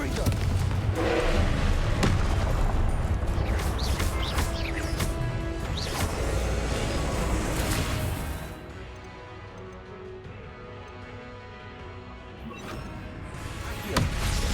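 Confringo blasting spells explode over and over in the Hogwarts Legacy video game, loud booming crashes and rumble through a busy battle, then fading to a quieter stretch with a final thump.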